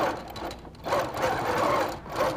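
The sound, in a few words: sewing machine doing tight quilting on a beret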